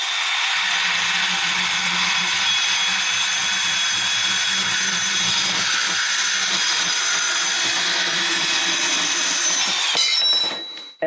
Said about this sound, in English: still using the bandsaw. This is 30 by 30 square tubing, 2 or 3 mm thick. It cuts automatically.